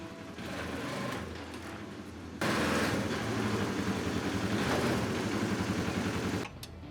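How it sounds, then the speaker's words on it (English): A Polaris XP900 UTV driving back and forth, its engine a steady buzzing drone that rises louder partway through and drops again at the end, with no talk. "driving the UTV back and forth a few times"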